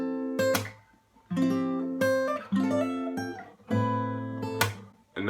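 Several strummed guitar chords, each ringing out and decaying before the next, played alone at a moderate, unhurried pace.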